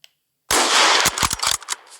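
A single loud, close sniper rifle shot in a Minecraft gun mod, a sharp blast followed by a rattling burst of mechanical clicks that fades within about a second.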